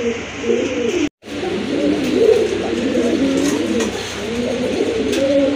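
Rajgolla fancy pigeons coo steadily in soft, rolling bursts close by, with a brief silent break early on and a continuous low background hum.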